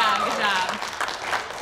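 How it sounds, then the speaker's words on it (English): An audience at a live inclusion-themed show gives a round of applause, a dense wash of clapping hands throughout, with cheering voices mixed in. "Can I get at least like one little round of applause?"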